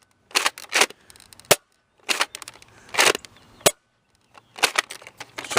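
Nerf blaster firing Nerf Elite darts, a series of sharp close pops and spring thwacks in uneven bursts separated by brief silences.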